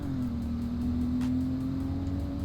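Aston Martin four-door car in the Roblox game Greenville accelerating, a steady droning engine tone holding near constant pitch for a couple of seconds, loud and continuous with no talk.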